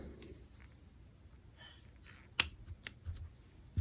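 Scissors snipping a crochet yarn tail on a hooded dog blanket, a few quiet, sharp clicking cuts spaced apart in a near-silent room.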